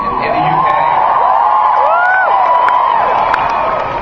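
A convention audience at a Doctor Who 50th anniversary panel at San Diego Comic-Con 2013 cheers loudly, a dense roar of whoops and shouts from a large crowd filling the hall continuously.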